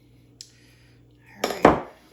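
A utensil moves and smashes chicken sausage in a pan, giving a few close scraping knocks and clatters after a near-quiet start.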